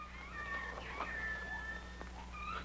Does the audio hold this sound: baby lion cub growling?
yes